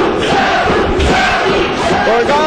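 A wrestling arena crowd roars and chants behind Sabu after a table spot, a loud, dense wall of cheering voices with surging swells and a thud partway through, mixed with a commentator talking over it.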